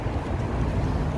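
Wind blows across a downtown Chicago street in late February, a steady low roaring rumble of gusts buffeting the microphone, fairly loud and continuous with no speech.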